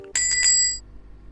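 A shop doorbell rings in a bright, quick cluster of jingles, then fades away over about half a second, leaving faint rain and a low hum.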